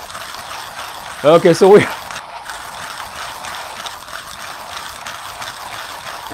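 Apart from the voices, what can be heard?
hand coffee grinder grinding coffee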